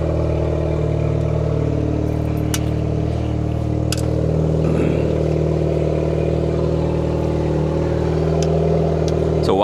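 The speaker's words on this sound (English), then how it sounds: "I should let the engine heat up" A boat engine idles while warming up after a day of fishing, giving a loud, steady, close-up drone with a faint rattle and scattered clicks and knocks on top.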